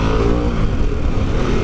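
Harley-Davidson Pan America motorcycle engine while riding, a steady loud rumbling drone with throbbing low harmonics and slight pitch shifts, continuous and close throughout.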